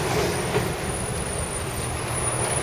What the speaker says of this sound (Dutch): dan moet je natuurlijk net die bus stoppen